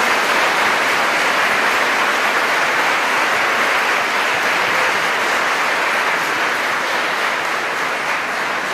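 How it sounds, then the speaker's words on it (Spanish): A live audience applauds the judges, organizers and competitors at the close of a 2016 competition round in the State of Mexico, a dense, steady wash of clapping that holds evenly at full volume throughout, with no voices. "Fuerte el aplauso para todos ustedes"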